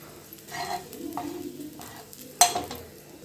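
Masala frying in a pan for egg roast, stirred with a utensil in short scraping strokes over a soft sizzle, with one sharp clink near the end.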